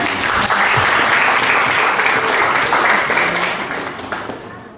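Sustained audience applause at a grand launch event for a premium housing development, loud and dense throughout, tapering off slightly toward the end with no talk over it.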